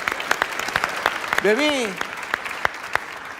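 A group claps for a young girl named Tasnim, giving scattered, uneven claps that spread across a few seconds while a person speaks briefly over them.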